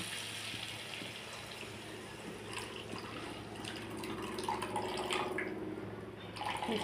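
Spice paste mixed with water is poured into a pan of cooked tomatoes for a Bengali fish curry, giving a soft steady liquid pour and sizzle with faint drips, low and continuous.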